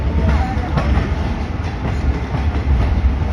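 A Pakistani passenger train, the Shaheen Passenger rake on the Rawalpindi to Sialkot line, rumbles steadily through a station with a rhythmic clickety-clack of wheels, loud and close, with faint voices in the background.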